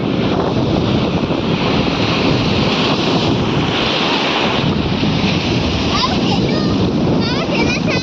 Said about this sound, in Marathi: लाटा मोठ्या यायला लागला